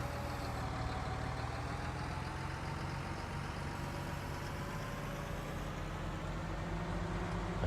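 A tractor engine idles steadily in a farming video game, a continuous low mechanical rumble with a faint hum running unbroken and even throughout, no voices over it.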